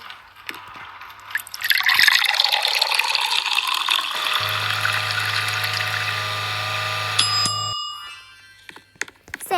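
Liquid pours and trickles as a baby's milk bottle is filled and mixed in the video game Twilight Daycare. A steady electronic hum and chime tones sound partway through, and there is no talk.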